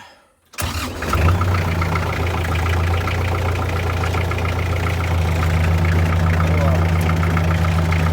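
A Lovol tractor engine starts up, then runs steadily and loudly in second gear while hauling a 4-ton trailer of grain, with a low, constant drone and rumble throughout.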